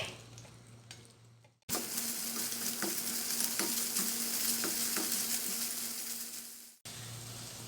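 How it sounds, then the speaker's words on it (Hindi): Chopped onions sautéing with chicken pieces in a pan for cheesy chicken pasta, a loud steady sizzle with occasional stirring scrapes, breaking off sharply near the end. "अब मैं इसमें प्याज डाल रही हूँ। हम इसे भी सौटे कर लेंगे।"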